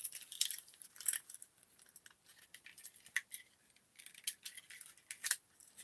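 Small metallic clicks and snips, close by and scattered irregularly, like scissors being handled and opened; no voices.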